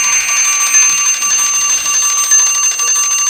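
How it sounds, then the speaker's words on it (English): An end-of-period buzzer in a junior women's U-19 ice hockey game sounds in a rink, a loud, steady tonal blare held for several seconds without break. "buzzer sounds."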